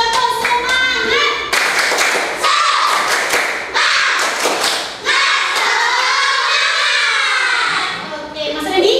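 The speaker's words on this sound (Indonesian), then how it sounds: "Kita tepuk semangat yuk semuanya." Children clap together in a rhythmic encouragement pattern, close and loud, with sharp bursts of claps broken by short pauses, while a woman's and children's voices chant along in a sing-song cadence.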